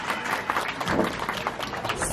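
Audience at a zoo in Ontario, Canada applauds a whistling bird, a short patch of soft, scattered clapping heard from a moderate distance with faint crowd murmur.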